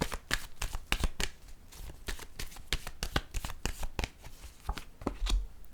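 Tarot cards are shuffled by hand, a close, crisp run of quick flicking riffles and slaps in irregular bursts, with no voice over them.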